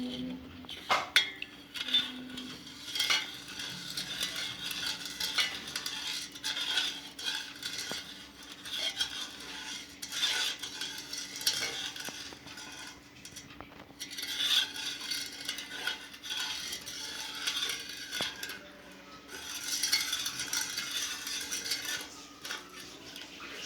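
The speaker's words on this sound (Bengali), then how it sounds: "এখানে ইফতারির জন্য শরবত গুলানো হচ্ছে" A spoon clinks and scrapes steadily against a glass or jug while sherbet drink is stirred for the iftar meal, with rhythmic bursts of stirring close by and a faint steady hum underneath.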